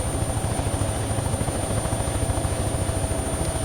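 A helicopter's rotor beats in a steady, fast low thump under a continuous engine drone as it speeds up into a small dive, loud and even throughout with no talking.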